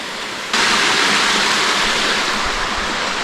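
Water rushes steadily through a Cold War bunker, a loud, continuous broadband roar that starts abruptly and holds without pause, close to the microphone.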